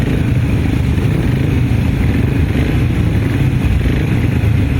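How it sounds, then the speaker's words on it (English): A 500cc upright grasstrack racing motorcycle engine drones loudly and continuously at an outdoor race meeting, a steady rough roar with no clear pauses. "the engine, you can see, sits upright in the frame, hence the name Upright. So 500cc"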